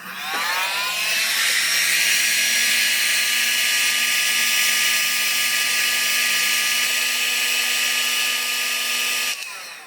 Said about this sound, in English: So I'm going to grab my heat gun.